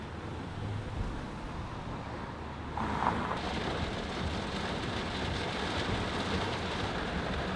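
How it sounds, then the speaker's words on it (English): Heavy rain pours steadily outdoors across a street from a small market, a dense broadband hiss that stays constant throughout, thickening slightly partway through, with no voices. "Once again, it's pouring rain."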